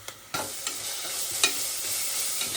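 Ginger garlic paste for prawn biryani sizzling in a cooker over high flame, with a few sharp scrapes of stirring over a steady close frying hiss.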